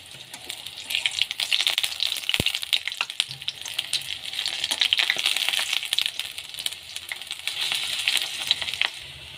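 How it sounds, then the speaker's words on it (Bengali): Ground pea-lentil fritters with egg fry in hot oil, giving a bright, continuous sizzle with crackling pops and occasional light clinks of a utensil against the pan, with no talking. "এই যে বড়াগুলো ভাজা হচ্ছে"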